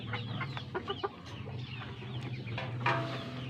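A sweater gamefowl rooster, two years old, clucks in a backyard, soft scattered calls at moderate distance over a steady low ambient hum.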